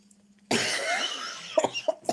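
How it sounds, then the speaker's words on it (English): A sudden harsh cough bursts out, followed by a few shorter throaty coughs and clearing sounds, close up. "that made me cough"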